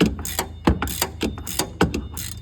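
A ratchet tightening the starter battery bracket on a Kandi Kruiser, with quick metallic clicking strokes in several close, loud bursts.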